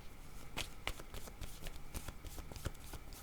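Word cards shuffled during a card reading on lying, giving a steady run of crisp riffling flicks and soft slaps, close and alone without talk.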